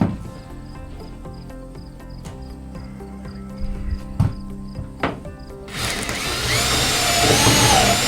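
A power driver sets self-tapping screws, heard as a few sharp mechanical clicks and knocks followed by a loud, sustained whirring drive that runs to the end, close up and with no talk.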